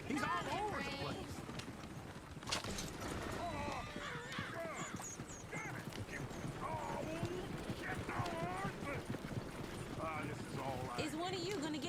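Horse hooves clip-clop at a steady trotting rhythm in the Red Dead Redemption 2 video game, close and continuous, with a horse's whinny and characters talking over them.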